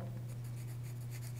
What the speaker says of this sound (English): I'm going to come in with an H pencil